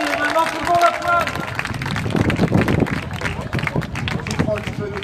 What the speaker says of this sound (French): Merci, et maintenant tout le monde applaudit.